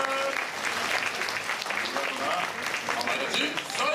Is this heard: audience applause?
yes